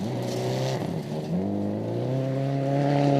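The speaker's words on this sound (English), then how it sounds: "you can just hear the car struggling to dig through that gravel" Subaru rally car labouring through gravel on a New Zealand rally championship stage, with a loud, close engine drone that dips briefly, then climbs steadily in pitch under strain. No one speaks.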